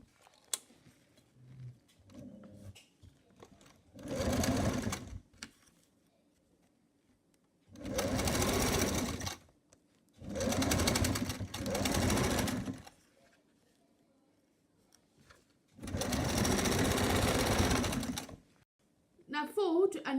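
Sewing machine stitching a folded jacket hem, running in four steady bursts of rapid, even chatter separated by quiet pauses, close and clear.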